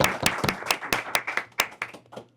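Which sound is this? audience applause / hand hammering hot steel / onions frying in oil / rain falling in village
audience applause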